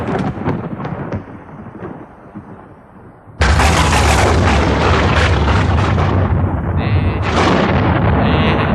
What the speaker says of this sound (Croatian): Čuješ li grmljavinu?